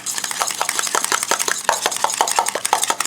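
Two eggs being stirred with milk in a bowl, a rapid run of close, sharp clinks and taps from a utensil beating against the bowl, with no talk.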